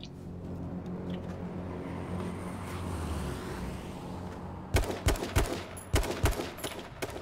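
Bursts of gunfire in the battle-royale video game H1Z1 King of the Kill, a quick cluster of sharp shots arriving in the second half over a steady hum of game ambience.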